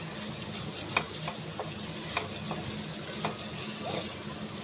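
Onions frying in oil hiss steadily while a spoon stirs them, with a few light clicks and scrapes against the pan at irregular intervals.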